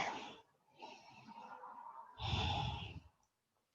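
Slow, audible exhalations during a yoga forward fold (Padahastasana), three breathy sighs with the last longest and fullest, close and quiet with no talking.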